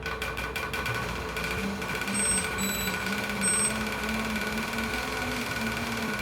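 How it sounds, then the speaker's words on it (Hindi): Bicycle rollers trainer whirring steadily under a rider, a continuous close mechanical hum with faint rattling and brief high squeaks, no talking. "थोड़ा सा रोलर भी नॉइस कर रहा है मुझे."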